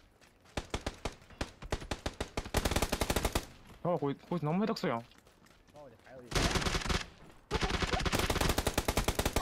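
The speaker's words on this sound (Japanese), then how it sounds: "あと銃声した" Bursts of automatic gunfire in the battle royale game PUBG, loud rapid volleys with short pauses between them, while a player talks excitedly over the shooting.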